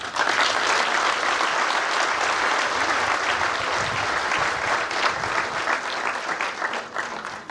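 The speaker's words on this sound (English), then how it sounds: "I want you to give your sons and daughters a round of applause." Parents and relatives in an audience applaud police academy graduates at a passing-out ceremony, a loud, dense and sustained clapping that fades slightly at the end.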